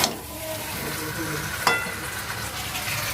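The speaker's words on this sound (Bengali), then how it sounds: "চিকেনটা ভালো মতো কষিয়ে নিয়েছি" Chicken sautéing in a pan, a dense continuous sizzle close by with a sharp utensil scrape partway through and nobody speaking.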